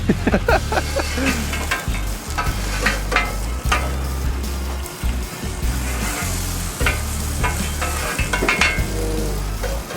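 Birria tacos crisping in a hot pan, a loud continuous sizzle with bursts of crackle and occasional scrapes and clatter of a spatula as they are flipped, close by with no clear talk.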